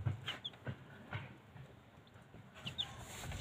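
A hen clucking protectively over her chicks, several short low clucks in an uneven rhythm with faint high chick peeps, fairly quiet and close against a noisy outdoor background.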